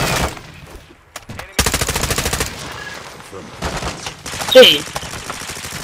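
Automatic gunfire in the video game Warzone, shooting at a window in fast, evenly spaced bursts that are loud and close, separated by short pauses, with a voice cutting in briefly.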